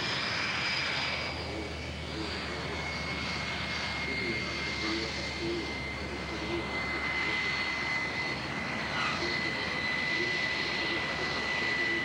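A Sukhoi Su-27 jet aircraft's engine roars steadily throughout, a continuous broad rumble with a sustained high whine, constant and fairly distant, with no pauses.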